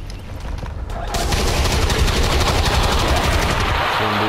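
Loud sustained gunfire from a turn-based tactical battle in the video game XCOM 2, a dense continuous roar of rapid shots that swells after a brief quieter lead-in.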